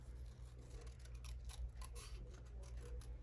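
Scissors snipping through small paper scraps for a tiled collage page, a run of quick, crisp cuts close by, steady and fairly quiet over a low background hum.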